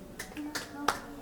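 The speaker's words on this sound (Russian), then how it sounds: "Мама хлопает, верно." A mother claps her hands three times, each a sharp, separate clap spaced a third of a second apart, close and fairly quiet over a faint steady hum.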